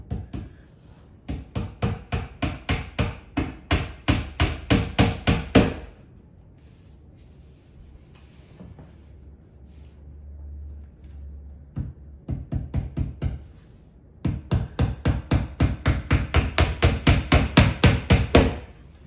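A hammer strikes rapidly and steadily while a Mainstays 42-inch TV stand is assembled, with two long runs of sharp, evenly spaced blows separated by a quiet pause.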